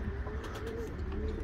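A male pedigree pigeon flies overhead while soft cooing from nearby birds carries over faint background noise.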